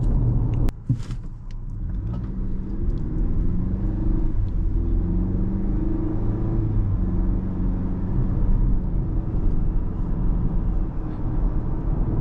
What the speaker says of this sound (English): just giving it a little bit of juice there.